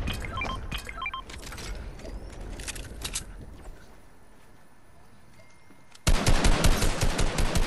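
Rapid bursts of assault rifle fire in a shooter video game, with several short volleys early on, a quieter stretch, then a loud sustained burst at the end, mixed with game effects.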